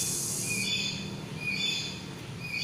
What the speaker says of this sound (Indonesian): Ada suara burung ya.